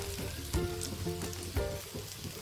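Ghee sizzling and crackling steadily in a hot pan while dry fruit laddoos with cashews, almonds and dates are being prepared, a constant close frying hiss with small pops and no talk.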